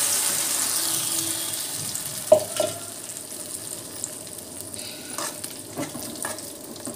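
Cumin and mustard seeds for a chutney tempering sizzle softly in a pan, broken by a few sharp metallic clinks and scraping stirs, with no voices.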